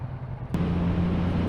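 A Triumph Rocket 3 motorcycle engine idles with a steady low rumble, then is throttled up about halfway through into a louder, sustained drone that holds to the end.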